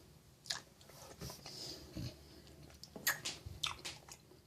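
Bites and chewing of a Dairy Queen Salty Caramel Truffle Blizzard with toffee, brownie and chocolate ice cream, heard as a handful of close, quiet crunchy bites and moist chews spread across a few seconds with no talking.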